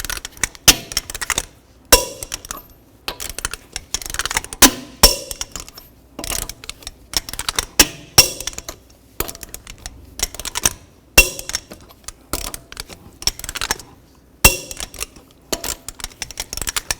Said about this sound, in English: Now I'm going to torque the lug nuts to 140 foot-pounds in a cross pattern